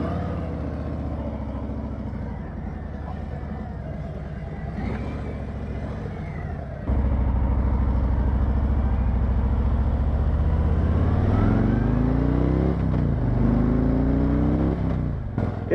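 A Harley-Davidson Street Glide motorcycle rumbles on the road in a loud, steady low engine drone, with a jump in level partway through as it accelerates and climbing tones as it revs higher.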